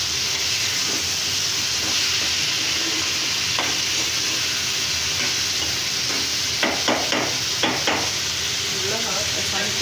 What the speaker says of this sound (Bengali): ডালগুলো আবার কষানো দিলাম